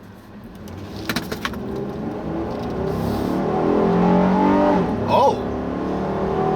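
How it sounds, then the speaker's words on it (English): A 2017 Honda Ridgeline truck's engine revs up loudly from inside the cabin, pitch climbing steadily as VTEC engages, with a brief voice over the building engine note. "That's VTEC just kicked in there on a truck."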